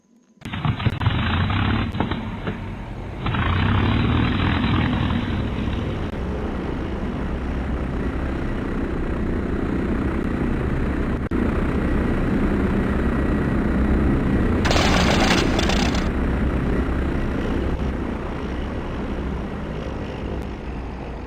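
Piston aircraft engine cranking and catching in the Arma 3 Flying Legends mod, rising from a rough start into a steady loud roar that holds for the rest of the stretch with a brief higher whine midway.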